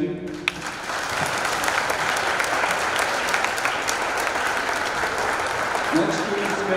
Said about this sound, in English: Round of applause again, thank you.